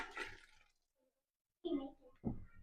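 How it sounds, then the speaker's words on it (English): Boiling water poured into jars of canned mandarin oranges: a short hissing splash, a pause, then two more close pours that start abruptly, with faint speech in the background. "We're gonna put our boiling water in."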